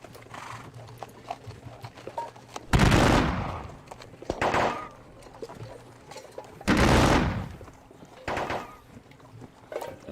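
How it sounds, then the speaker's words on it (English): Musket volley fire in a Napoleonic wargame of the battle at Quatre Bras, two heavy crashing volleys a few seconds apart, each trailed by a smaller follow-up burst, over a low murmur of battlefield ambience. "Fire up and down the line."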